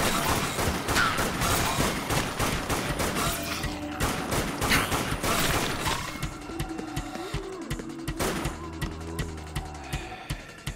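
Rapid rifle fire from a zombie shooter game, Dead Nation, crackling in dense bursts for the first several seconds before thinning into scattered shots over rumbling game effects and music.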